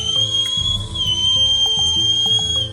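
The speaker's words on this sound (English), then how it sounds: "the goblin whistled a very high-pitched note" A goblin whistles a very high-pitched note, a steady piercing tone held throughout, loud and clear over a busy musical backdrop with low rhythmic accompaniment.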